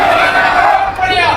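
A festival audience at the Uttarakhand Virasat Mahotsav cheers loudly and continuously for a singing team, a thick wall of crowd noise with shouts mixed in.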